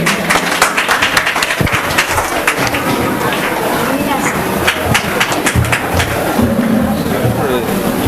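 An audience claps for children at a prize-giving during a Kamarajar birthday celebration in Courtallam, a steady patter of applause running under a voice speaking over a loudspeaker.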